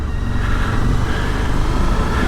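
A Suzuki V-Strom 1050XT adventure motorcycle on Bridgestone tyres rolls along a dry gravel and dirt trail, with a steady, close engine drone blended with rushing wind and road noise.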